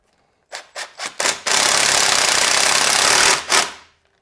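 Impact driver on the front sprocket nut of a Yamaha Ténéré 700 motorcycle, four short close bursts followed by a long loud hammering run and a final short burst.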